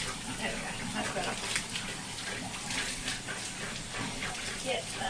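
Hot water runs steadily from a tap to rinse starch out of fabric being prepared for tie-dyeing, a continuous close gushing splash that holds at an even level throughout.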